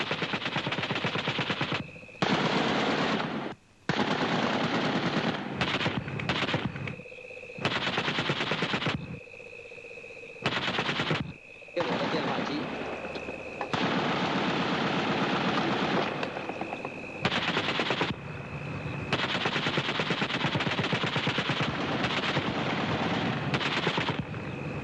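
Heavy machine gun fire in a battle, with long, loud sustained bursts broken by brief pauses, ringing out over a harsh wash of gunfire noise with no talking.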